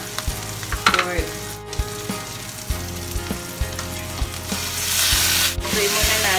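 Marinated pork sizzles steadily in a hot pan for Filipino menudo, with frequent clinks and scrapes of a utensil stirring against the pan, and the frying swells louder near the end.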